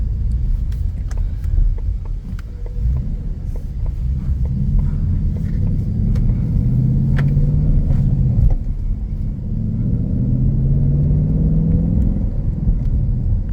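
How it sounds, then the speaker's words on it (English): A 2021 Ford Mustang Mach 1 with manual transmission rumbles along a neighborhood street, its deep exhaust note rising and falling as it accelerates through gears, loud and close with no talk. "Beautiful exhaust tone."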